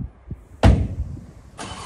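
A 2023 BMW M2 G87 fires up with a sharp starter catch and loud bark that settles into a settling idle, followed by a second blip of engine noise, close by with no talking.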